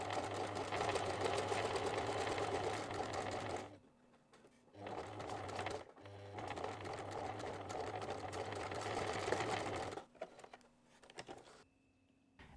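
A sewing machine stitches a fabric drawstring pouch in several bursts of rapid, steady mechanical whirring, separated by brief quiet pauses, close and clear with no talking.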